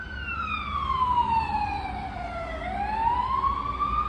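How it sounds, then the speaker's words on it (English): An ambulance races past near Stonehenge, its siren sweeping down in pitch and then climbing again over a background of road noise, clear and fairly close. "I don't expect that's why the ambulance is racing along."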